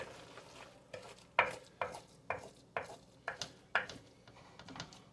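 Chicken dressing mixture with melting onions being stirred in a skillet: a run of irregular scraping, clattering strokes of spoon against pan, close and fairly quiet, with no talk.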